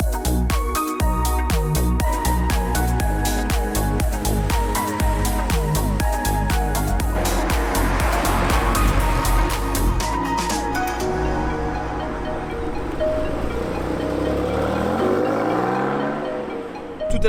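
Porsche 944 Turbo and Boxster 2.7 cars drive off one after another, engines revving and accelerating with rising and falling tones, loud and close before fading into the distance.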